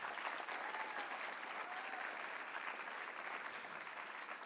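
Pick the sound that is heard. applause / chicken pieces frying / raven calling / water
applause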